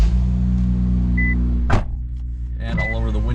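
Steady hum of a modified 500 hp Infiniti Q50 engine with an electric power window motor whirring briefly, followed by a click and another short whirr.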